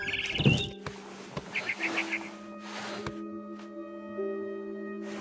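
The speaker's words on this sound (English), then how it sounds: "Then I heard chirping outside my window. It was a barn swallow going back to her nest." A barn swallow chirps outside a window in the video game What Remains of Edith Finch, with a few short, bright chirp bursts over sustained ambient game tones.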